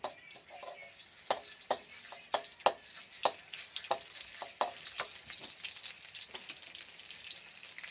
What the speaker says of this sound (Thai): นำพริกแกงนะครับ ลงไปคั่วนะครับ